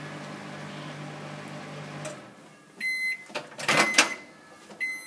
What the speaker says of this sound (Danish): Så skal cookien ind i mikroovnen i 40-60 sekunder